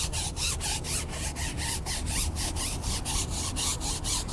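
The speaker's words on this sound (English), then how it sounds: "I'm going to take a nifty brush, which I'm going to use to agitate the cleaner." A brush scrubs tire cleaner back and forth on a car tire, working it into a foam: rhythmic, steady bristle strokes at about three per second, close and loud, with no talking.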